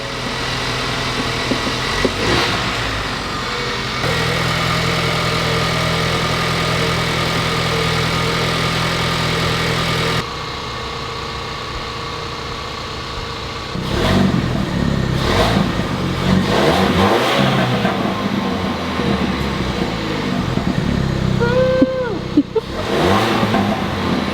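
A Ford Bronco engine cranks and starts, then idles with a steady rumble and revs up several times, loud and close, with a change in engine tone partway through.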